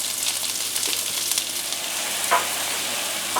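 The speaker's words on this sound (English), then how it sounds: "In the meantime, I fry 2 shrimps for the garnishing" Two shrimps fry in a hot pan as a garnish for prawn ravioli, giving a steady, close, bright sizzle with light crackles throughout and no talking.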